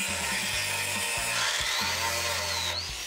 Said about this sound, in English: You're just gonna take this cutoff wheel and you're gonna grind that head right off of there.